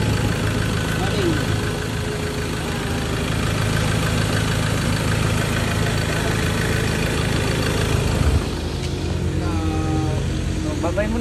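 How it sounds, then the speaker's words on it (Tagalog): A Ford Ranger XLT pickup, its MAP sensor being cleaned, idles steadily with an even low engine drone that carries on unbroken, with a voice briefly heard near the end. "Running."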